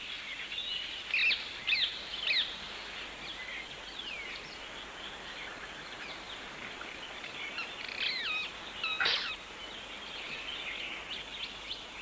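Parakeets and jungle mynas call from flowering trees in a busy chorus of shrill chirps, whistles and squawks, with louder bursts rising now and then over a steady background of birdsong.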